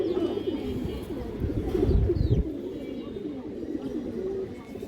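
Kaldom high flyer pigeons coo steadily at close range, their low, throaty calls rolling on continuously with a slightly louder stretch midway.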